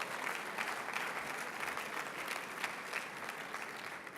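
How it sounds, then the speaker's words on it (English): Steady audience applause for party staff at a European People's Party congress in Malta, a dense wash of clapping held at even strength throughout, fairly distant, with no talk over it. "I would like you please to applaud all of them"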